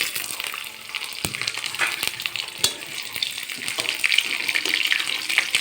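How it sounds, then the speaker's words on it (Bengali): Fried peanuts tipped back into hot oil with onion and garlic, a close, steady sizzle with crackling pops and occasional stirring clicks throughout. "সেই বাদামটা আবার তেলের পরে দিয়ে দিলাম।"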